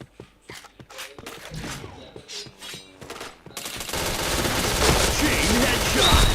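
Rapid bursts of video game gunfire scoring headshots, sparse and intermittent at first, then a loud sustained barrage with a voice speaking over the shots.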